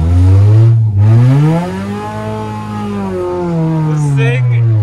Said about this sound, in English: This thing is very loud, I like it. Oh yeah. It's like a race car loud though.